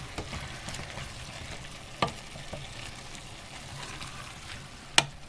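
Chopped mushrooms frying and being stirred in a pan with ground meat, a steady soft sizzle with a few sharp utensil scrapes and taps against the pan, moderately quiet.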